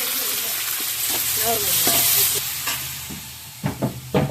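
Onions and tomatoes with salt sizzle in a hot pan for a fish curry, a steady frying hiss with a few sharp stirring clatters near the end.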